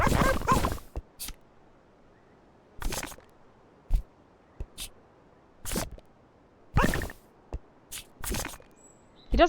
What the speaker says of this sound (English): He doesn't even know why he's barking most of the time